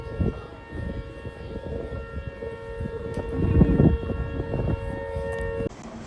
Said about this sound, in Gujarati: સાયરન વાગે જો સાંભળો